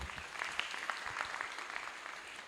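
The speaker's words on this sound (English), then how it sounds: "Please give her a nice round of applause." A graduation ceremony audience gives a round of applause for an emcee, a short burst of scattered, moderately loud clapping that continues evenly for a couple of seconds.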